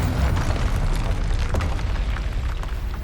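Fiery spell blast from the Confringo curse in Hogwarts Legacy, a loud, sustained rumbling boom with crackling bursts that fills the whole moment without letup.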